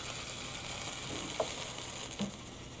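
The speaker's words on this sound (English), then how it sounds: "And you see the LNG is boiling off" Liquefied natural gas poured onto water boils off with a steady hissing, sizzling fizz, close and continuous, with a couple of faint pops.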